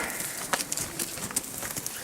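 Horse hooves clip-clopping on the ground during a riding lesson, a steady run of soft, fairly close thuds with faint ambient noise and no talk.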